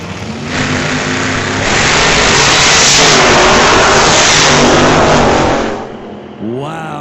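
A nitro-burning drag racing car at an old-time drag event, its engine roaring loud and close in a harsh, sustained blast that swells and holds before dropping away, followed by a quick rising rev.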